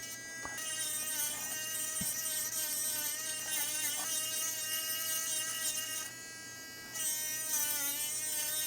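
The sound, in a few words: rotary tool grinding through an iPhone CPU chip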